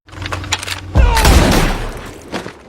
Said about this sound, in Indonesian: Salah satu dari mereka yang bernama Marley melepaskan tembakan.